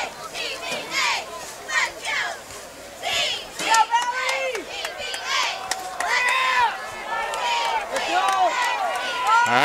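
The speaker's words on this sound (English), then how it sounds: "The crowd's getting into it a little bit." Crowd noise at a high school football game (TVHS vs Bremen), with a steady murmur of cheering and shouts from spectators that swells after the midpoint, children's voices mixed in, and no commentary over it.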